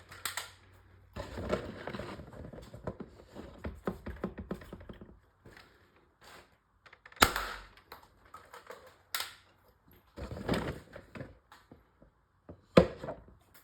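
Modified dart blaster firing, a series of sharp snapping shots in irregular bursts with quiet gaps, close and fairly loud, mixed with small mechanical clicks of handling.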